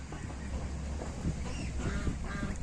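Geese and young goslings keep up a steady, close chorus of honking and soft chattering calls on a poultry farm, a continuous flock murmur with no voices.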